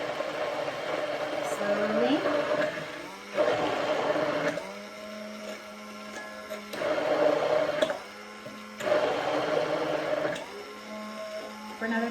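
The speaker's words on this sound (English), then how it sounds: "Now we're going to slowly pull the blender up and side to side." An immersion blender emulsifies avocado mayonnaise, whirring in repeated bursts that shift pitch as it moves, pausing between pulses while a person speaks over it.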